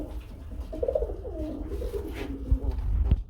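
Pigeons at a market stall coo in a low, throaty warble, a few rising and falling calls close by with some background bustle and knocks near the end.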